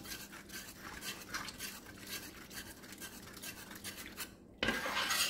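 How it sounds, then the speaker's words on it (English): Sour cream being stirred into a homemade spaghetti sauce, with a spoon scraping steadily against the pot in a soft repetitive rhythm and a brief louder rustle near the end, no voices. "I'm also going to mix in about 3 tablespoons of sour cream"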